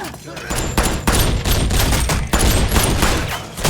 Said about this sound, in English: The gunshots alert the rest of the cartel soldiers